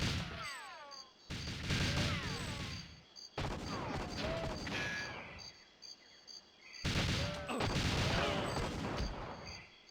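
Repeated bursts of gunfire from GoldenEye 007 on the Nintendo 64, loud volleys in several clusters separated by brief gaps, with game-music tones running through them.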